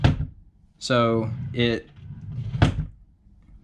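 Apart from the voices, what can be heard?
IKEA dresser drawer sliding and slamming shut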